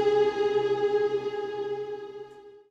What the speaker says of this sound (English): And for the sample start, it sounds like this.